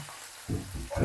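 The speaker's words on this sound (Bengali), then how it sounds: "বেগুন দিয়ে দিলাম" Eggplant pieces dropped into hot oil in a wok (kadai), a brief quiet lead-in breaking into a sudden bubbling sizzle that surges again near the end.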